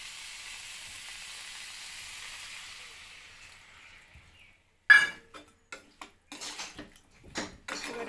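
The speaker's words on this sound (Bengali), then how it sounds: "একটু নাড়াচাড়া দিয়ে এবারে আমি একটু জল ঢেলে দেব" Water hits a pan of frying pumpkin greens and potatoes with poppy seed paste, producing a loud hiss that fades over a few seconds. Sharp clinks and knocks of a utensil against the pan follow.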